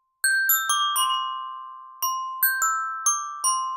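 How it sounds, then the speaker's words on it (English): Clean synthesized bell tones, about nine separate struck notes at an uneven pace, each ringing bright and pure before decaying, played alone without talk. "I just need a really clean bell sound."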